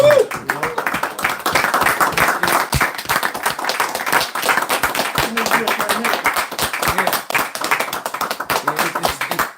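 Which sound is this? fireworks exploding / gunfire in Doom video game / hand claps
hand claps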